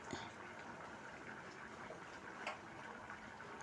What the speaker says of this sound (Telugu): ఇలా ఉడుకుతుంది